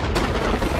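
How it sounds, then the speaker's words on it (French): A cartoon explosion from Hot Wheels Monster Trucks: one dense, loud roaring blast that fills the whole short moment with no voices. "Cette explosion, c'est toi?"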